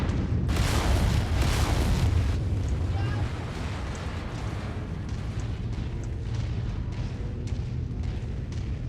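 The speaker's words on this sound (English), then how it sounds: "it does a lot more damage. And it causes an explosion, which blows him up quickly." Explosions from a weapon launcher in the mech combat game Mechwarrior 5, a loud rumbling boom with bursting debris up front, then sustained dense rumble and crackle continuing throughout.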